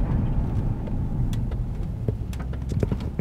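Police car engine and road noise as the cruiser accelerates to pull alongside a truck, a steady close rumble with wind and tire roar throughout, no talk.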